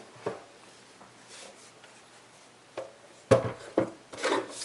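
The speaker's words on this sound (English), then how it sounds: "So I'm going to trim this down a little bit thinner." Cardstock is trimmed for a handmade card, giving a few short scraping and rubbing strokes with quiet gaps between them and a louder cluster of slicing rasps near the end, close up and alone.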